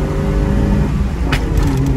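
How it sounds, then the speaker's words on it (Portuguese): A Chevrolet Chevette fitted with an Onix engine held at high revs, droning steadily and loud throughout with a slight stutter as it bounces off the rev limiter. "Isso é o corte do Chevette"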